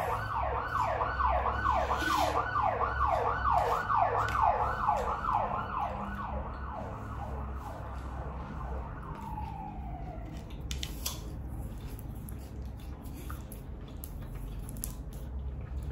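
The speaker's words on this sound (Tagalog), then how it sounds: "yan naman, ambulansya" An ambulance siren wails on a road in Auckland, New Zealand, rising and falling in a steady repeating cycle, loud at first, then quickly fading as it passes, leaving faint traffic rumble.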